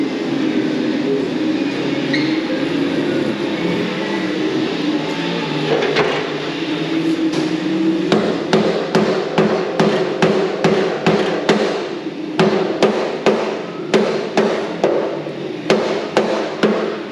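A hammer tapping on a metal panel while panels are straightened, a steady run of sharp metallic knocks over a low background hum, the strikes coming more regularly and louder in the second half.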